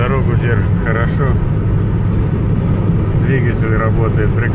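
A 25-year-old Audi 80 B4 car is driven along the road, its engine giving a steady low drone and road rumble. Someone talks over it throughout.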